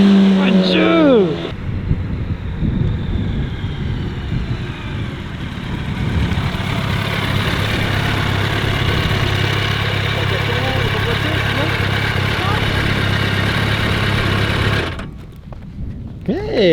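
A Yamaha R1 motorcycle ridden by a nine-year-old girl, its engine droning steadily and building as it accelerates for over ten seconds, loud and close, with people talking briefly at the start and end.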